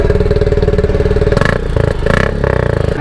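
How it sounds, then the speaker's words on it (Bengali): A Honda CB350 motorcycle idling just after starting, a steady close-up thumping engine beat with a couple of brief blips of throttle partway through. "এই স্টার্ট করলাম, বাইক কিন্তু স্টার্ট হয়ে গেছে। থামটা শোনো"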